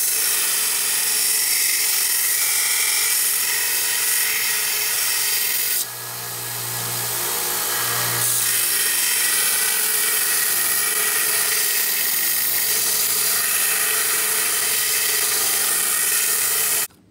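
A power drill runs continuously while boring holes in metal butterfly knife parts, a loud steady whine up close that dips briefly in pitch partway through before stopping abruptly at the end.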